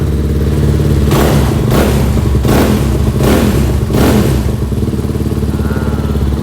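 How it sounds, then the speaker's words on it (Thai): A Leochino 250cc motorcycle with an aftermarket exhaust idles loudly and close by. It gives four or five sharp blips of the throttle that rise and fall in quick succession, then settles back to a steady idle. "มีท่อแต่งมาให้ด้วยนะฮะ นะครับ เสียงบึ้มๆกันไปเลยเนาะ"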